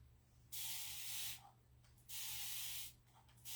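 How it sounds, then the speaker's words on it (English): Two long, bright hissing sprays from a spray bottle, each lasting close to a second, separated by a short pause, close by with a low hum underneath. "So I'm just going to spray it down."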